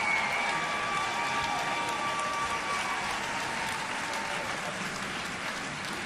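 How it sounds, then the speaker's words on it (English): A large audience applauds a first-team all-CIF track and field squad, giving dense, steady clapping that fills the whole stretch at an even level with a faint crowd murmur underneath. "How about a round of applause for our All-CIF track and field first team?"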